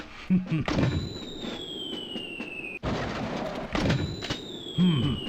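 A mortar fires in the Army Men video game, giving deep thumping blasts followed by long descending whistles; two volleys repeat in quick succession amid other game noise.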